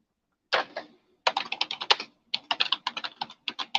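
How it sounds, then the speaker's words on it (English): Rapid typing on a computer keyboard, close and clear, in three bursts of key clicks separated by short pauses, with no voices over it. "Typing."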